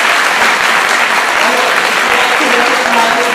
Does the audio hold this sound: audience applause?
yes